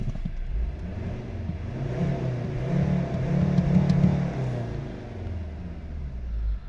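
A 2011 Volvo V60 2.0 D4 diesel automatic with high mileage, heard from inside while driving: a steady low engine rumble that swells briefly under acceleration, moderately loud, without speech.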